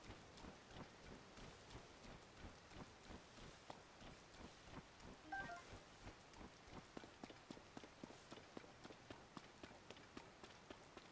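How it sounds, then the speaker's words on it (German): Rain falls in The Legend of Zelda: Tears of the Kingdom, a steady patter mixed with a regular rhythmic tapping like footsteps running through the wet game world, moderately quiet throughout. "Natürlich, jetzt regnet es."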